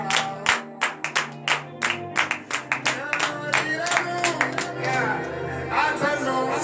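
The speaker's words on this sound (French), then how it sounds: "Donnez de vive acclamation à Seigneur Jésus." Rhythmic clapping from a church congregation at a Saturday morning prayer service in Benin, sharp even hand claps repeating close by over a sustained sung or chanted backdrop.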